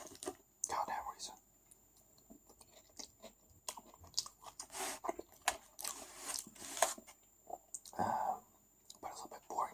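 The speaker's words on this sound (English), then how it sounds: "Sometimes I just like to listen to the sounds of someone eating." Close, quiet chewing and crunching of kebab and french fries, with soft mouth sounds and irregular bites spread throughout, intermittent whispering layered in between the crunches.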